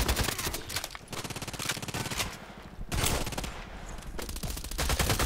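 An H&K MP7 submachine gun fires in the shooter game Contract Wars, with several rapid automatic bursts of closely spaced cracks broken by short pauses near one and three seconds, loud and close.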